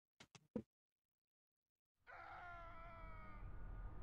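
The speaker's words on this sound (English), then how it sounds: "I think I heard someone scream." A few short, sharp scream-like cries sound in the horror game Missing Hiker, followed by silence and then a loud, steady droning ambience.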